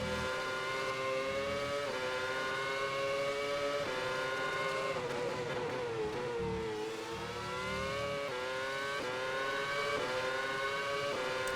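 Race cars in a simulator racing game at the Australian Grand Prix brake for turn 3, a steady, loud, high engine whine that dips in pitch as they slow and then climbs again, with no talking.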